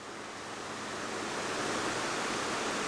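A waterfall and a creek pour into a lake in a Canadian landscape, producing a broad, steady rush of water that swells slightly and holds loud and even for a few seconds with no voices.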